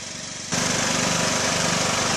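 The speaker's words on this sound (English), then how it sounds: "there's old wifey on the John Deere just having a good old time. Just mowing around." A John Deere riding lawn mower mows a lawn; its engine drones steadily up close, with a quieter rumble at first that jumps abruptly louder and stays loud, unbroken and free of talk.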